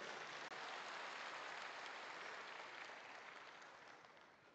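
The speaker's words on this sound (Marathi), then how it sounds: "एकदा सगळ्यांसाठी टाळ्या वाजवा" Dense crowd applause at a political rally, a sustained wash of many hands clapping at a distance that gradually tapers off toward the end.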